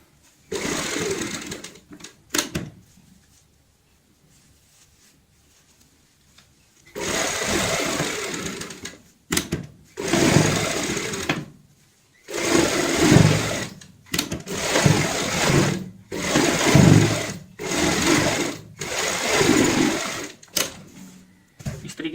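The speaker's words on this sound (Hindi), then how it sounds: "यहाँ पे चेक करते हुए हम एक बार देखते हुए सिलाई से इसको अटैच कर देंगे डब्बी को।" A sewing machine stitches a round cushion cover in a series of bursts, whirring steadily for a few seconds at a time and stopping briefly between runs.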